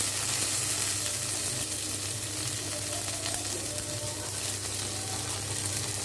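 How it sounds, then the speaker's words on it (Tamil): Mustard seeds, urad dal, green chili and curry leaves fry in hot oil, giving a steady, dense sizzle with faint crackles that carries on evenly without talk. "இப்போ எண்ணெய் காஞ்சிருச்சு. கடுகு, உளுத்தம்பருப்பு, பச்சை மிளகாய், கருவேப்பிலை,"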